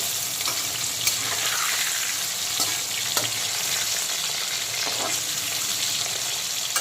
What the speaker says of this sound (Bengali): এখন কাটাপোনার উল্টো দিকটাকেও একইভাবে ভেজে নেব, মিডিয়াম ফ্রাই করে নেব